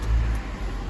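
A 2009 Renault Clio Extreme 1.2 petrol hatchback engine turning over and settling into a steady, close idle with a low rumble throughout, no voices.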